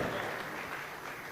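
Brief, soft applause from a crowd, a dense patter of clapping heard at a distance.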